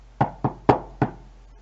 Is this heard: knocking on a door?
yes